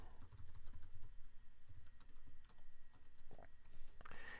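Code being typed on a computer keyboard during a web development lesson: a steady run of fast, light key clicks at close range with no talking, ending in a slightly louder burst of keystrokes.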